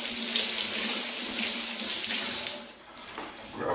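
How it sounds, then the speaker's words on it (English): Tap water runs steadily into a sink, rinsing loose rubber particles off a golf club grip; a close, continuous splashing stream that thins out toward the end. "So now I'm going to rinse off the rubber particles with some water"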